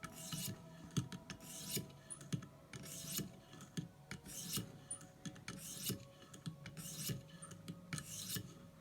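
A knife edge on a Ontario Rat 1 being drawn through a ViperSharp sharpener makes steady, rhythmic rasping strokes, roughly one per second, quiet and close with a faint gritty scrape on each pass.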